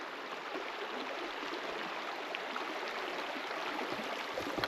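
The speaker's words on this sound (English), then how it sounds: "we got our first creek." A creek in the Wind River Range flows steadily nearby, a continuous broadband rush of moving water with no voices, holding an even level throughout.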